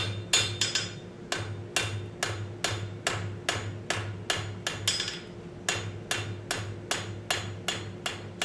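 A hammer strikes hot metal held in tongs while forging, in a fast, steady rhythm, sharp ringing blows repeating one after another with no talking.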